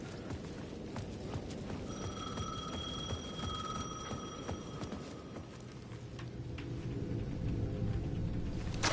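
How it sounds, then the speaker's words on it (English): A payphone rings at the edge of a plaza in the video game Alano Sveglio, a steady electronic trill lasting a few seconds over a busy, noisy background. "The payphone at the edge of the plaza was ringing again."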